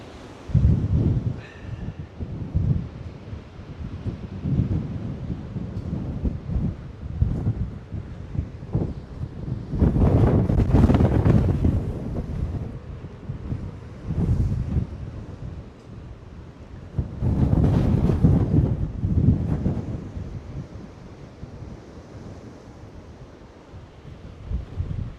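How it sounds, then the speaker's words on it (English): Strong gusting wind on a hilltop buffeting the microphone, roaring in loud surges with quieter lulls between them, and nothing else clearly heard. "it's very, very windy up here"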